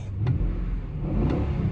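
A cold Infiniti eight-cylinder engine runs close by with a deep, steady rumble and mild revving swells, with no talking.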